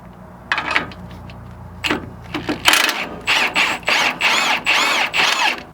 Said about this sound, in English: so we'll take this sway bar end link off